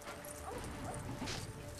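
A dog whimpers and yips in the Lego Pirates video game, short soft whines over a steady bed of game music and ambience, with no talking.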